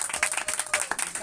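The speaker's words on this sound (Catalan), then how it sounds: "Un aplaudiment" Audience applause in a studio setting, a brisk, even burst of many hands clapping together, fairly close and lively, with no speech over it.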